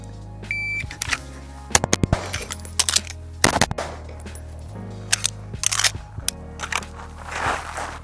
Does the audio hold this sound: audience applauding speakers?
no